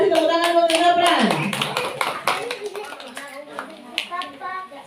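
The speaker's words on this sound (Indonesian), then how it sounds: "Kasih tepuk tangan buat Zafran" Children clap their hands together for a classmate at a school storytelling session, a busy burst of claps under an adult's voice that eases into scattered, softer clapping.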